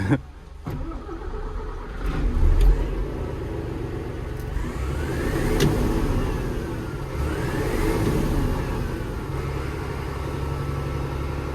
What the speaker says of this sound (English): if it'll rev up and go.